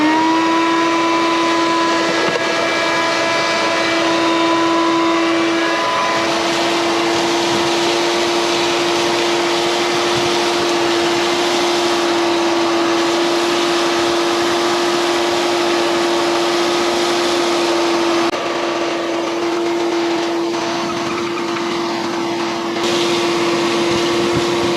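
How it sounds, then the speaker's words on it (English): A shop vac runs steadily and loudly for the whole stretch while vacuuming debris out of an outdoor condenser coil, its motor whine constant, with no talking. "For now we're going to remove it with a shop vac."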